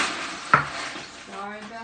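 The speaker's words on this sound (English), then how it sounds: "Sorry about the noise, but I got to put some ice." Ice dropped into a glass for sweet tea, one sharp clatter near the mic, followed by a person talking.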